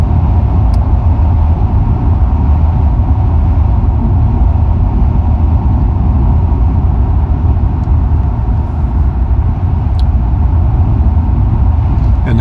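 Car engine drone and steady road rumble fill the cabin throughout, a constant low-heavy noise with no variation while cruising along a 50 speed-limit road.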